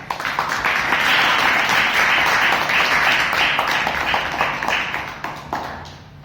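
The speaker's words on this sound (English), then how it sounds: "I want to welcome Toastmaster Deepak with a big round of applause." Steady applause from an audience at a Toastmasters club meeting, dense clapping lasting several seconds before tapering off slightly at the end.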